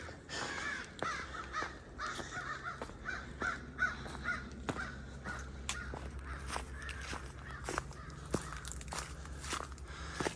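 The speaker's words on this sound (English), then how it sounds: "Been a while since I heard some birds." Crows caw over and over nearby on the Appalachian Trail, rough and repetitive, while footsteps crunch steadily underneath.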